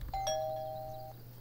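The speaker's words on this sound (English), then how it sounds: "Can I ring the doorbell?" A doorbell rings in the Thief Simulator video game, a single clear electronic chime with a bright attack and sustained tone fading out over about a second, over a low steady hum.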